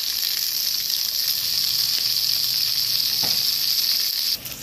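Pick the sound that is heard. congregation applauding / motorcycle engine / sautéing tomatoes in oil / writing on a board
sautéing tomatoes in oil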